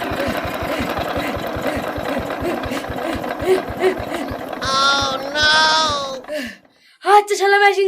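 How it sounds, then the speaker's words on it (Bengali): A machine engine chugs with a steady rapid knocking rhythm up close, running on for about six seconds before it cuts out, while people talk over it and a voice rises near the end. "মেশিন যে স্টার্ট হয়েছে না গো"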